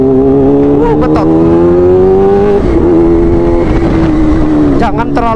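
A Kawasaki Ninja H2 motorcycle engine idles loud and close with a rising tone, then blips and revs sharply several times near the end.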